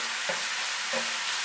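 Minced meat fries in a pan with a steady, dense hiss and two soft stirring scrapes, heard close and alone with no talking.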